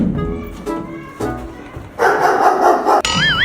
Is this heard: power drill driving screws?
no